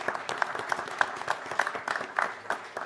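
Applause from a press conference audience, a brief, fairly faint patter of clapping hands with no talk over it.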